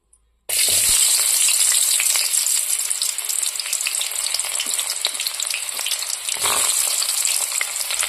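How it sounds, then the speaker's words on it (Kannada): Onions frying in a pan of oil: after a brief silent start, a loud, steady, close crackling sizzle runs unbroken to the end, with no voices. "ಈರುಳ್ಳಿನ ಸ್ವಲ್ಪ ಫ್ರೈ ಮಾಡಿಕೊಂಡು"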